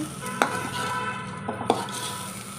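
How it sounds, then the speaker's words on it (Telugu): Bitter gourd tempering sizzles in oil while being stirred, a steady close frying hiss with a couple of sharp utensil knocks against the pan. "దీంట్లో కాకరకాయ తాలింపులు వేసేసుకున్నాను వేసేసి ఇది ఇదంతా ఒకసారి కలిపేసుకున్నాము"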